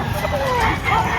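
Roosters and chickens crow and cluck at a gamefowl poultry market in Lipa, Batangas, mixed into a busy bed of nearby voices and market chatter throughout.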